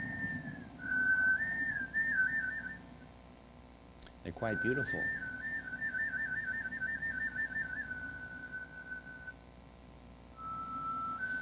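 Ancient handmade flutes play thin, high, breathy melodic phrases with sustained notes and small trills, separated by short pauses, while a voice briefly speaks in the middle.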